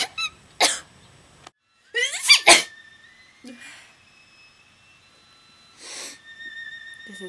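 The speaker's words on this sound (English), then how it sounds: "they had me sneeze about 5 million times because they want actresses that have a funky sneeze" Several odd, exaggerated sneezes and snorts come in separate bursts with quiet pauses between, some breathy and squeaky, close up.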